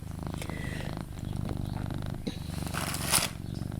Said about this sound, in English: I think you can probably hear Arthur purring.